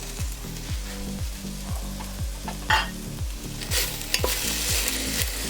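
Broccoli goes into a hot pan of steak stir fry, giving a steady loud sizzle with rhythmic scraping strokes of stirring and brief bright crackles as the florets and stems hit the oil.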